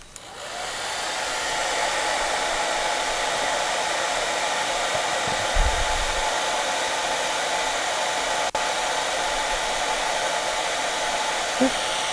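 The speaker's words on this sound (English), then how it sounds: "The hairdryer test." A hair dryer on medium heat and low fan, running from a portable power station, gives a steady, even whooshing whir after a brief start-up, unbroken for the whole stretch.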